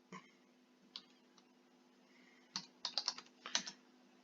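Keys clack on a computer keyboard in sparse, quiet taps that build into a short burst of quick strokes, heard close in a hushed room with a faint steady hum and no talking.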